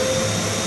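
Festool Midi CT shop vacuum with a cyclone system running, a steady loud motor whine and airflow roar, brief and alone.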